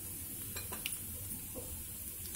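Mustard seeds, cumin, urad dal and two green chillies tempering in a pan give a soft, steady hiss with a few faint clinks of stirring, quiet and close.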